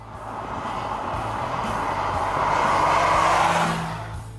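Mercedes-AMG V8 engines roar loudly and steadily at close range, the sound swelling to a peak near the end and then easing off, with a faint squeal of tires and no talking.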